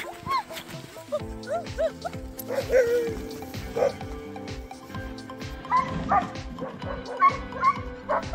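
Several huskies nearby yip, whine and bark excitedly in quick, uneven bursts over a low, steady hum, after a dog sled ride in Finnish Lapland.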